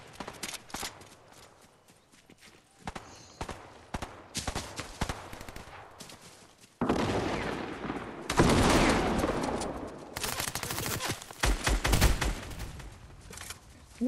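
Shooter video game gunfire, with bursts of rapid shots and scattered single cracks that grow denser and louder in the second half, alongside other game effects.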